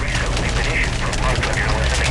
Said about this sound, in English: Hail still coming down.